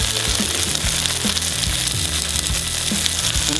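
Gyoza frying in a covered pan over medium heat, a steady close crackling sizzle with small pops and occasional light knocks, no voices.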